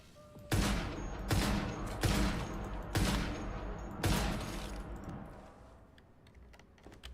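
Gunfire in the video game Once Human: five loud, heavy shots go off about a second apart, each ringing out before the next, then the sound fades to quiet keyboard clicks.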